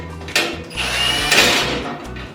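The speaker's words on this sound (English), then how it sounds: "with the screws in the back, you screw them in so it bites into the threaded rod." Screws being driven into the threaded rod of a STUDBITE trapeze support, giving a steady mechanical ratcheting whir with low rhythmic pulses, close and fairly loud throughout, with no talking.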